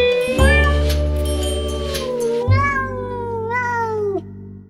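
A cat gives two long, loud, drawn-out meows close by, each call bending in pitch, with no talking.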